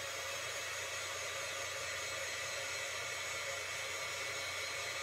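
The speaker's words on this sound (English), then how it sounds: "And then I'm going to use my heat tool." Heat tool blowing hot air onto ink for crafting, a steady close whirring hiss of airflow running without pause throughout.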